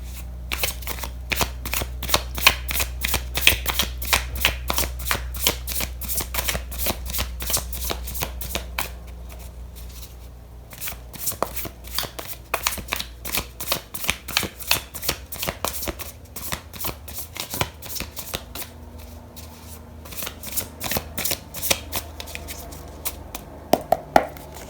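A deck of tarot cards is shuffled up close in repeated bursts of crisp riffling and flicking, with short pauses between rounds and no voice over it.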